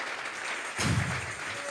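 A church congregation bursts into a short round of applause, a dense wash of clapping that starts abruptly and fills the room for about a second.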